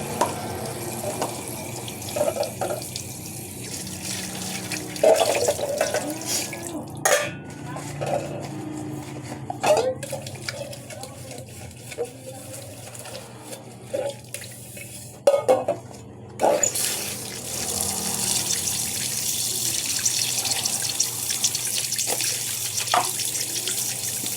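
Tap water runs steadily while a metal pot is scrubbed and knocked, with scattered clanks and scraping close by, and a voice talking at times.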